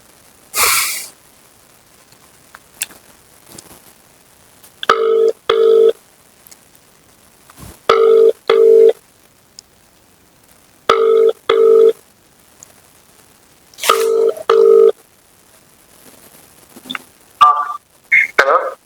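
Telephone ringback on an outgoing call to the Chegunta police sub-inspector: repeated paired electronic ring tones in regular bursts, clear and close, with a few short clicks and noises between rings and no speech.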